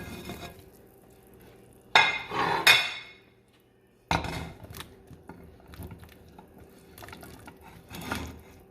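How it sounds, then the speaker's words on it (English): Chopped vegetables tumble into a pot of Mexican meatball soup in two loud clattering bursts, with utensils knocking against the pot and quieter scraping between them. "Now I'm gonna add the vegetables"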